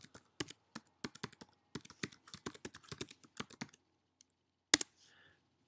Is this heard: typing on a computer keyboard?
yes